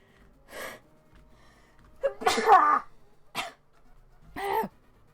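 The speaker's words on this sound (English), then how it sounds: "Well, that was an uncomfortable sneeze everywhere." A sharp inhaled gasp, then a loud sneeze, followed by a short breathy sound and a final gasp-like burst.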